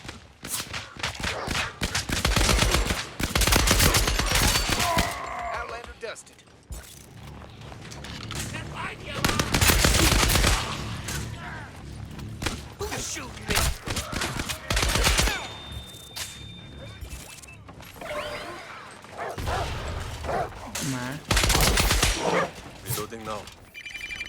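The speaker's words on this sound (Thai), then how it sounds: "เสียงปืนนัวอยู่ข้างหน้าแล้ว" Rapid bursts of gunfire in the battle royale game Scavengers, automatic weapons rattling in loud volleys with short pauses, dense and chaotic throughout.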